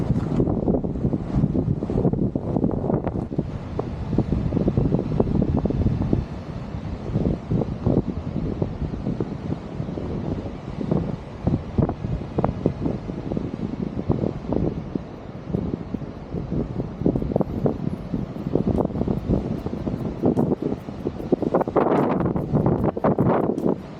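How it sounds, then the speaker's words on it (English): Strong wind of about 20 knots buffets a boat on Moreton Bay, a steady broadband roar of wind rush and water noise filling the whole stretch, with gusty surges near the start and end and no talking. "So it's windy, I think it's about 3 or 4 meter swells apparently today according to the weather, but it's about 20 knots as well."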